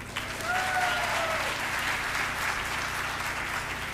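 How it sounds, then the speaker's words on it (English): Audience applause for the Excellence and Equity Committee at an employee celebration event, a dense, steady wash of many hands clapping that holds at an even level throughout, with no voices over it. "please join me in applauding the Excellence and Equity Committee for an exceptional job well done"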